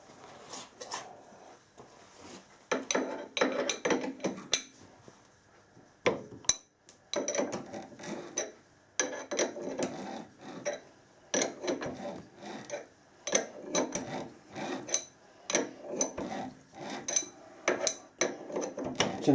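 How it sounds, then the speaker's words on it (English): A quarter BSP die is turned by hand to cut threads on a bronze adapter, giving uneven bursts of close metallic scraping and clicking, with short pauses between turns. "we've got a quarter BSP die here. I'm going to thread this"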